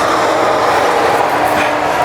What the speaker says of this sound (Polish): Składamy elektrycznie i teraz zwróćcie uwagę, w jaki sposób zwija się materiał.